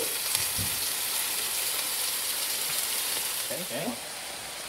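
Broccoli and peppers stir-fried in a pan with steady, loud sizzling and frying hiss throughout, with a few faint stirring knocks and brief clatter near the end.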